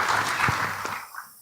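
Brief burst of applause from a conference audience at a leadership and governance session, fading out after about a second with a voice faintly underneath.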